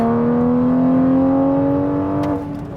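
A loud engine drones at high revs with a steady, rising tone, then eases off near the end as the car keeps moving.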